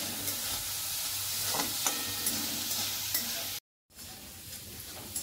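Onion and tomato sautéing in a pan over low gas, with a steady sizzle and occasional stirring scrapes, briefly cut to silence near the end before the frying resumes.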